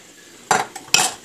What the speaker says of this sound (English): take your whisk and just whisk the motherfucker until it's all just one liquid